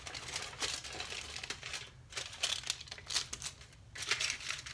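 Aluminium foil is crinkled and folded around freshly bleached hair on the knots of a wig closure, giving close, soft, irregular crackling rustles in several bursts with brief pauses, and no talking.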